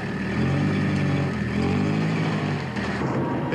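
A car engine, an old car that is nearly like new, runs with a low rumbling drone that swells and holds steady as the vehicle pulls away, close and moderately loud, alone without talk.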